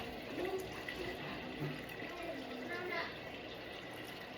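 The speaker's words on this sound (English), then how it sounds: "I'm filling up my water" Water runs steadily from a tap into a container for feeding a sourdough starter, a soft continuous splashing hiss at moderate distance.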